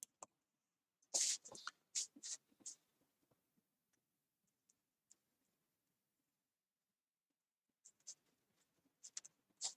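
Handwriting with pen on paper during a sashiko stitching livestream, quiet close scratchy strokes in short bursts separated by long near-silent pauses.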